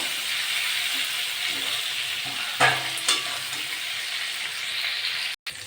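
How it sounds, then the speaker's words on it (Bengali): Tiger prawns sizzle steadily in hot oil, with a couple of sharper spits and crackles partway through before the hiss briefly cuts out. "চিংড়িগুলো ভাজা হয়ে গেছে বেশি ভাজা নিয়ে অল্প ভাজা করেছি"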